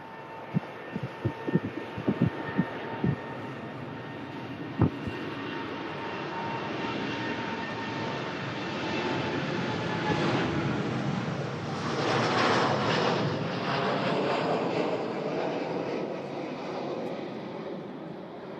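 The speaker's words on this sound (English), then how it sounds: "Have a listen to this as the Virgin Atlantic for Las Vegas begins its pushback as well." Jet engines of an airliner at Manchester Airport, a Virgin Atlantic jet pushing back and a Gulf Air Dreamliner climbing out, form a steady, loud, distant roar that swells midway, with a few brief knocks near the start.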